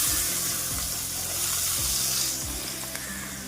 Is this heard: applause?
no